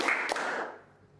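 Students in a classroom clap on the teacher's command, producing one distinct sharp smack over a roomy background wash that fades out gradually.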